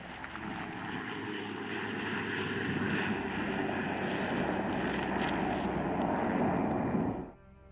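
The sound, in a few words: MQ-9 Reaper combat drone flying, propeller engine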